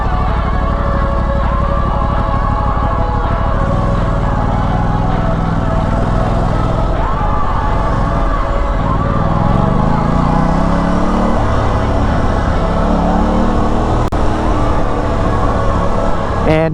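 Aprilia RS660 motorcycle engine under way in traffic, a loud continuous drone that shifts pitch as the revs climb and drop, mixed with road noise and some background voices.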